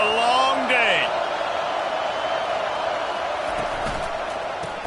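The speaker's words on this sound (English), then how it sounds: "This crowd, full throat, spreading the eardrums and letting them know it's going to be a long day." A full-throated football crowd at an FSU game roars steadily in a packed stadium, a dense wall of cheering with whistles and whoops rising above it.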